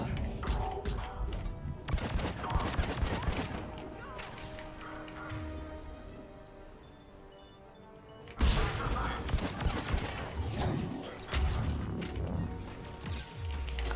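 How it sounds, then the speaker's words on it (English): Heavy gunfire and explosions in the video game Mass Effect Legendary Edition, dense bursts of shots that drop to a quieter lull before erupting again loudly, with game effects around them. "Who's shooting me?"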